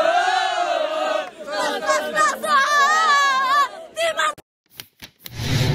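Raja fans celebrating the Throne Cup win, a crowd shouting and chanting in loud rising cries that break off into scattered shouts before a burst of noise returns.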